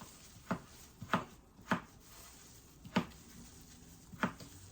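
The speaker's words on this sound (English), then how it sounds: "We're just going to chop these potatoes" A knife chops red potatoes into small cubes on a cutting board, about six sharp separate knocks at uneven intervals, close but fairly quiet.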